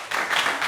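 Crowd applause during a church or pastor-led gathering, a brief dense burst of clapping that holds steady and fairly loud throughout, with no voices over it.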